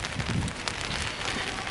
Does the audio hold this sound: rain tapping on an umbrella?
yes